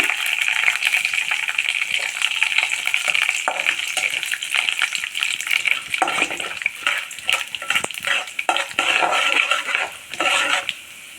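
Urad dal and chana dal roasting in hot oil in a pan for temple-style curd rice, a close continuous sizzle broken by repeated scraping and clinking of a spoon against the metal, no talking.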